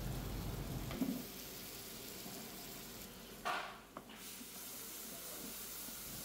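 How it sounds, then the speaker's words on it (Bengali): Chopped onions frying in a pan for Arabic chicken mojboos, a quiet steady sizzle and hiss with a few brief stirring clatters. "প্রথমে আমরা কিছু পেঁয়াজ চপ ফ্রাই করে নিব।"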